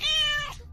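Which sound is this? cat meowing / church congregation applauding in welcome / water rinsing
cat meowing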